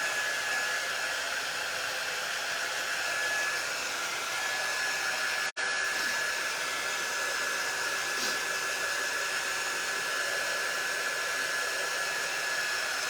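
A hair dryer blowing on craft pieces, a steady close whirring roar that runs unbroken, with one brief click partway through.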